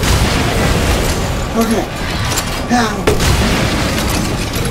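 Grenade launcher blasts in Resident Evil Village land as heavy booming explosions over a dense, loud rumble, with a voice speaking briefly among them.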